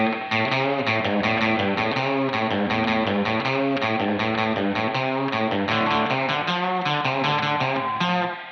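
Surf-style electric guitar played with lighter reverb, bright, rapid picked notes in a continuous, loud, rhythmic run with distorted tone, no talk over it.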